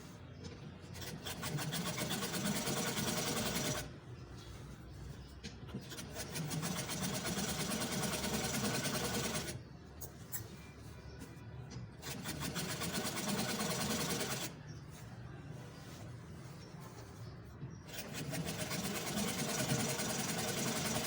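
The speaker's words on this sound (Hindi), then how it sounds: "इसी तरह ये बैन के चारों तरफ हम अपनी सिलाई जो है वो मुकम्मल कर लेंगे" A sewing machine runs in long steady bursts, stitching around a pintex band strip on kurta fabric, pausing briefly three times before running on again; no talking, just continuous close mechanical whirring.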